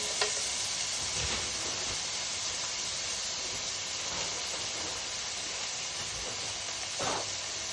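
Vegetables sizzling in a pan on the stove during weekly food prep, a steady soft hiss throughout with a few brief louder crackles and stirring sounds, no talking.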